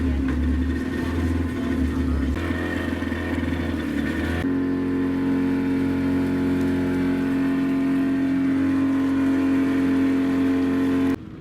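Small motorboat crossing Lake Titicaca, a steady, close engine drone with a strong hum that shifts in pitch partway through and keeps running to the end.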